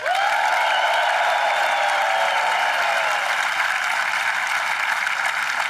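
Large audience at the 2023 Ryder Cup opening ceremony applauding the vice captains, a dense, loud, sustained wall of clapping that holds steady throughout with no talk over it.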